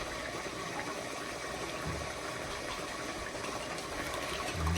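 Water pouring and gushing into a cooking pot while Nigerian jollof rice is being made, a steady broadband splashing rush that stays even for several seconds with no talking.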